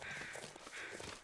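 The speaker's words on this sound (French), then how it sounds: "OK, il y a des corbeaux là." Crows caw in The Long Dark, two harsh rasping calls in succession over a soft outdoor wind bed, fairly quiet and distant-sounding, with no voices.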